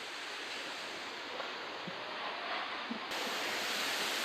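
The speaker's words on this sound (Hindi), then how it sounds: "पीछे वाटरफॉल है।" Waterfall in Nek Chand's Rock Garden, Chandigarh, a steady broadband rush of falling water heard from a distance, constant and unbroken with no talk.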